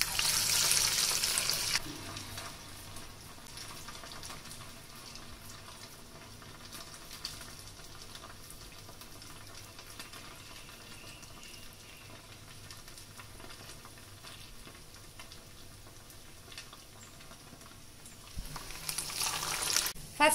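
Vadas deep-frying in oil, a soft continuous bubbling sizzle held at low level throughout, with brief louder handling noise at the start and end.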